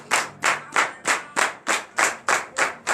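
A morning prayer congregation in Benin claps in unison, about ten sharp, evenly spaced claps at a brisk, steady beat, loud and close, with no talking over them.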